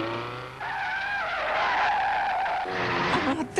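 Car tires screech and skid during an anime car chase, a loud sustained squeal that shifts in pitch, dips briefly, then returns with rising engine noise and a final jolt.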